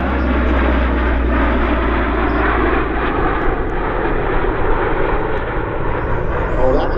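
An RCAF CP-140 Aurora patrol aircraft roars past in a high-speed pass at an airshow. The loud, sustained propeller-engine drone fills the whole stretch, with voices faintly underneath.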